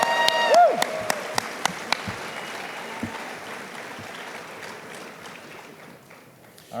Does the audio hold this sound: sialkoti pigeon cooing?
no